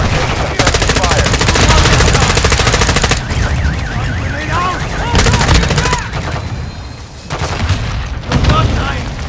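In a video game firefight, rapid machine gun bursts rattle loudly and nearly continuously, with pauses between volleys, over radio-style game voices.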